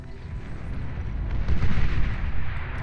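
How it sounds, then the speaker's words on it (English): Medium impulse bombs detonating across wind turbine fields in the strategy game Beyond All Reason, a low rumbling barrage of overlapping explosions that swells in the middle, loud and continuous. "His medium impulse bombs, ravaging the wind turbine fields."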